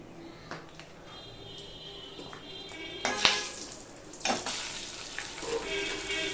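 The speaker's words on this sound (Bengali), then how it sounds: "এখানে গোটা গরম মশলা, 2টো এলাচ, 2টো টুকরো দারচিনি আর 3টে লং দিয়ে দিলাম।" Whole garam masala (two cardamom pods, two pieces of cinnamon and three cloves) sizzles in hot oil in a home pot for mutton biryani, a soft crackle that flares louder twice as the spices hit and stir, with no voices.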